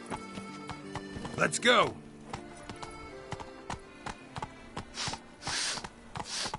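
Roach the horse in The Witcher 3 Blood and Wine, hooves clip-clopping at a gallop with a loud neigh early on, a voice speaking briefly over the hoofbeats.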